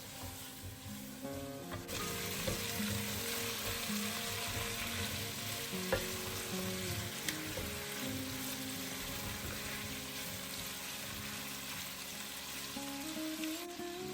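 Chicken pieces with black and red pepper sizzle steadily in a pan over medium heat, with occasional scraping and stirring sounds over a constant frying hiss.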